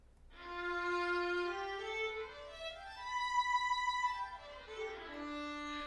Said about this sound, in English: which is a solo violin. It sounds like this.